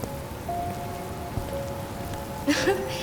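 Steady rain hisses in the background, a soft continuous patter, with faint tonal music notes and a brief voice-like sound near the end.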